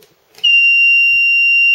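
A brewing control panel's timer alarm buzzer starts abruptly after a brief quiet moment and holds as one loud, steady, piercing electronic tone to the end.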